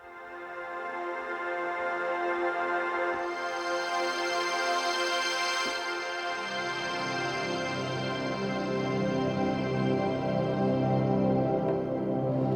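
A lo-fi Sky Pad air patch printed to a Fostex X28 cassette recorder, its lows rolled off and highs boosted, swells into a steady, breathy sustained pad with airy hiss that holds alone for about twelve seconds.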